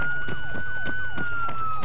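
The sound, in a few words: police car siren in a video game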